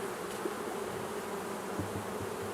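Honeybees hum steadily around a hive's quilt box, a dense continuous drone close by with a few bees passing nearer, no voices.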